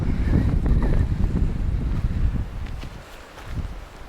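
Strong wind gusting through a winter pine forest in the Cairngorms during stormy weather, a loud continuous rushing roar with buffeting on the microphone that eases slightly toward the end, no voices.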